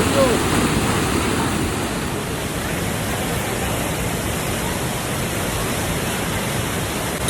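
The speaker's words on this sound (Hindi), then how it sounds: "पर उससे पहले ये पानी की साउंड सुनो।" Steady rushing water in the mountains of Sikkim roars continuously, broad and loud, like a nearby waterfall or fast river, with no other sounds standing out.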